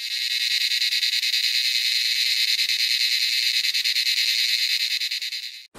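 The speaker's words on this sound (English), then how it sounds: "these are just few of the cicadas that you get to hear here and see" A loud, continuous buzzing drone from a Platylomia brevis cicada, steady and shrill with a fast pulsing texture, running for several seconds before cutting off abruptly.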